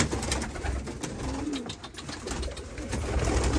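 Pigeons cooing inside a coop, with soft repeated low coos over a dense, busy background of birds and movement, heard close and steady throughout.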